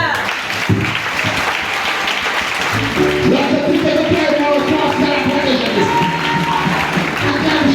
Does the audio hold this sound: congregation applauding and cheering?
yes